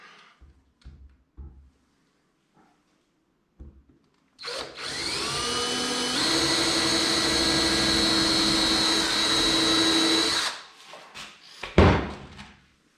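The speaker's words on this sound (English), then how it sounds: "So we have to drill from the bottom." A power drill bores up from underneath into wood during a lighthouse model build, a loud whining drone of about six seconds that rises in pitch midway, framed by knocks and handling clatter before and after.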